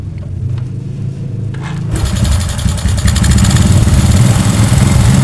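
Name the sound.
Honda Supra 125 motorcycle engine idling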